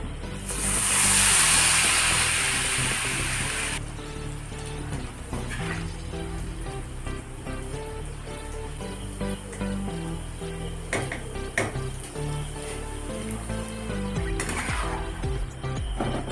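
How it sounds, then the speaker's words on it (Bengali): Snacks made with egg and rice flour fry crisp in oil over medium heat, a steady sizzle and hiss running throughout, louder at the start, with occasional clinks of a utensil. "মিডিয়াম আঁচে ভেজে নিতে হবে মুচমুচে করে"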